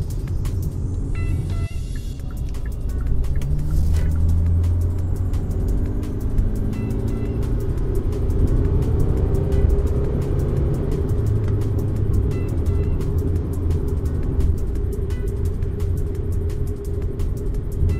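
A 2018 Kia Sorento 2.2L AWD turbo diesel drives along with a steady low engine rumble and road noise, continuous and fairly loud throughout from inside the cabin.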